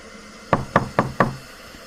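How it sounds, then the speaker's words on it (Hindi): Four evenly spaced, firm knocks on a door, each one crisp and close, with a quiet pause after; the knocking comes alone, with no voices. "फिर दोबारा दस्तक हुई, थोड़ा तेज।"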